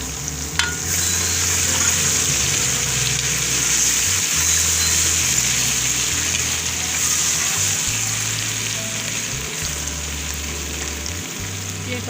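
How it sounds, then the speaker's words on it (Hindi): Garlic ginger paste frying with onions in a pan for a bhindi gosht dish, a steady broad sizzle with stirring that holds throughout, close and fairly loud, with no talking. "प्याज फ्राई हो गया है। अब मैं ये लहसुन अदरक का पेस्ट शामिल कर रही हूँ।"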